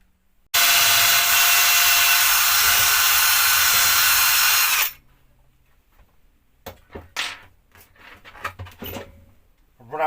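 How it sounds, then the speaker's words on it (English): Power drill boring a pilot hole near the edge of an old deck board for a nest box, a loud steady whine lasting about four seconds, then scattered handling knocks and clatter. "Always pilot a hole, especially when fixing so close to the edge."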